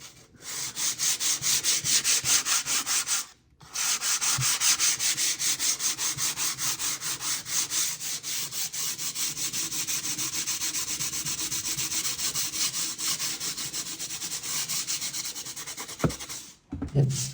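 Close, loud back-and-forth rubbing of 100 grit sandpaper on a lacquered window, a fast steady scratching rhythm that runs for the whole span apart from one short pause.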